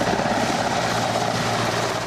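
An Indian Air Force Mi-17 V5 military transport helicopter thrums steadily, its rotor chop and engine drone loud and continuous across the whole stretch with no speech.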